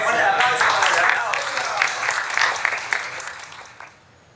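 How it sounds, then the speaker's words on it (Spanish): Loud applause from a studio audience at a televised prize draw, dense clapping that stays strong for a few seconds, then thins and fades out near the end, with some voices mixed in. "Muy bien, fuerte el aplauso."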